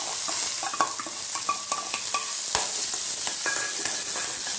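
About ten to fifteen small onions sautéing in a pan for a spinach dal curry, a steady close sizzle with frequent clinking and scraping stirs of a metal spoon, and no talk.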